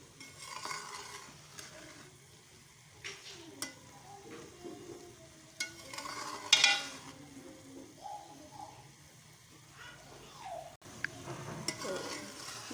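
A spoon slowly stirs sweet jaggery rice in a pot, soft scraping and faint bubbling with a few light clinks, quiet and close, and no one speaks.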